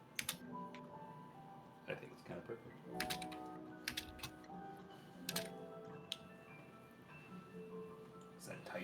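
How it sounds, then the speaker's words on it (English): Close keys tapping on a computer keyboard in uneven bursts of clicks, heard under a person's talking voice and light background chatter. "Is that typing I hear?"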